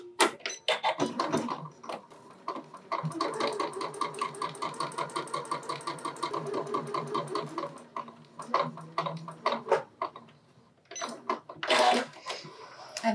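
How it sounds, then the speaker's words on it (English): A domestic sewing machine stitches a dart on a dress bodice, a rapid rhythmic whirring run lasting several seconds, pausing and restarting, close and fairly loud with light handling noises around it. "So I start at the end of the dart and stitch all the way to the point"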